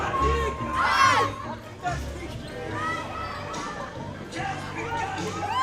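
Children at a campsite where large families are on holiday, shouting and shrieking excitedly in several loud bursts over a busy crowd murmur, with some adults talking.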